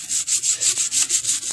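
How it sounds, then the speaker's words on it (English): A small brush scrubs clear coat off an aluminum wheel from a 1962 Mercury Comet, in a steady run of about eight quick, close, raspy strokes with no talking. "So, I'll just try this little brush here."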